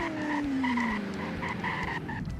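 A police car in the Roblox game Greenville brakes hard and skids, a falling tire squeal sliding down over a steady engine hum, close and fairly loud.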